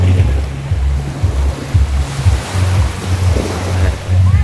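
Waves wash onto a beach at Lobo, Batangas, heard as a continuous rumbling surf with rhythmic low swells, mixed with wind buffeting the microphone, and no talking.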